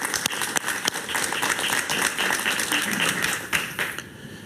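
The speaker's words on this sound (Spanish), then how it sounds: "Un aplauso para él," Studio audience applause on a Spanish-language talk show, sustained dense clapping from a crowd that holds steady for several seconds and then drops away abruptly near the end.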